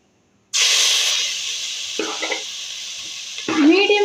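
Three grated carrots dropped into hot melted ghee for carrot halwa burst into a sudden loud sizzle that settles into a steady hiss, with occasional stirring scrapes.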